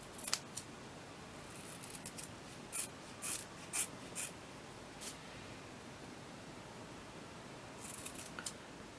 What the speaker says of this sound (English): And I'm just going to take scissors